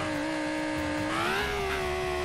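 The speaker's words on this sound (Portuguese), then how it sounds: "Olha essa moto aqui, pessoal, de corrida, ó." In the BeamNG Drive video game, a racing motorcycle engine drones loud and steady as a high whine, its pitch climbing gradually over a couple of seconds with faint tire noise beneath.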